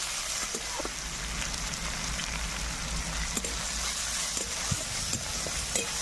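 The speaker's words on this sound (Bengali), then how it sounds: "এবার দিয়ে দিব পেঁয়াজ, দিয়ে ভালোভাবে একটু নাড়াচাড়া করে নেব পেঁয়াজটাকে।" Onions frying in oil in a pan while being stirred, a steady close sizzle with faint scraping clicks of the utensil throughout.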